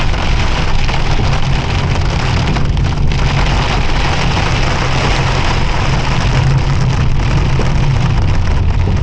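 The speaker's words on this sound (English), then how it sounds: "I gotta show y'all this rain." Heavy rain pours on a Firebird car during a storm, a loud, steady, dense drumming on the body and windshield that goes on without a break and with no talk.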